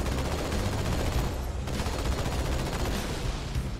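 Dense, continuous automatic gunfire in Halo 2 Anniversary, loud and close, with overlapping shots and blasts filling the whole moment without letup.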